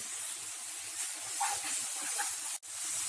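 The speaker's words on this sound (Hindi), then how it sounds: "नेक्स्ट हम इसमें 1 टीस्पून अदरक लहसुन का पेस्ट डाल देते हैं। इसे भी अच्छे से भून लें।" Ginger garlic paste fries in a pan with a steady, soft hissing sizzle and a brief dip near the end, with no talk.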